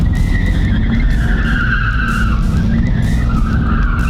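A Mercedes AMG car accelerates hard at three-quarter throttle, a loud continuous engine roar with a rising whine and tire noise, steady throughout with no talk.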